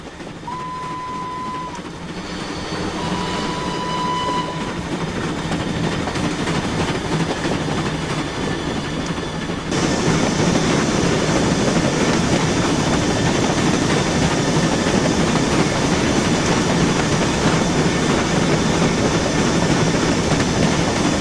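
A train rumbles steadily along in Train Simulator, a loud constant roar with faint rail clatter, two short whistle tones near the start, then a sudden jump to a louder, brighter running noise partway through.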